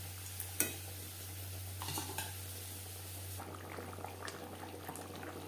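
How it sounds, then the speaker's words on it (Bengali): Fish simmering in a cumin and ginger gravy, a low steady bubbling with a couple of brief clinks of a utensil against the pot, faint and close, with a constant hum underneath and no talking. "গ্রেভির সাথে মাছ আরও 3-4 মিনিট রান্না করব।"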